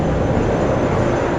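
An airplane at JFK Airport, seen from the TWA Hotel, roars with a loud, steady broadband engine rumble that fills the whole moment without pause.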